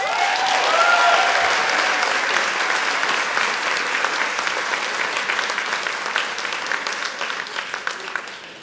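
A crowd at a healthcare staff recognition and long service awards ceremony applauds a winning team, steady full clapping that gradually thins, with individual claps becoming more distinct toward the end.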